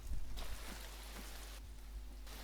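Steady rain hisses in a constant wash in the video game DayZ, with a few soft thuds underneath, fairly quiet and unbroken throughout.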